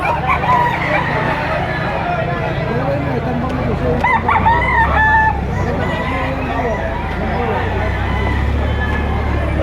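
Several roosters crow repeatedly over a steady outdoor din at Padre Garcia, the calls overlapping at varying distances amid background chatter from a crowd of people.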